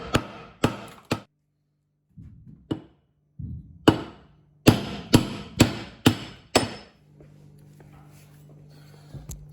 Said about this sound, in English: I've just got a dirty old claw hammer, so I'll try and give it a tap.